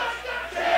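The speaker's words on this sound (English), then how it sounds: "This crowd sounding off, making the walls shake" A wrestling arena crowd in a JT Dunn versus Bryce Donovan match cheers and roars loudly and continuously, a dense wall of voices swelling near the end.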